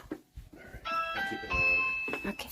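A doorbell at a house on Halloween rings with two sustained chime tones in quick succession, close and clear, with a child's and adults' voices around it.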